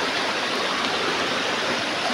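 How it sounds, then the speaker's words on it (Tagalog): A strong, shallow river current rushes over rocks, a dense, steady roar of flowing water heard up close with no other sounds. "Mababaw pa lang yung tubig, pero malakas yung agos niya."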